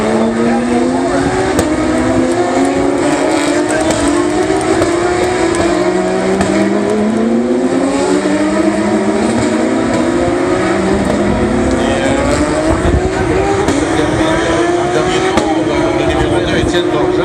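Race cars crossing the finish line at the 2016 Montreal Formula 1 event, engines whining and rising in repeated sweeping pitch climbs as they pass, loud and continuous beneath a commentator's voice.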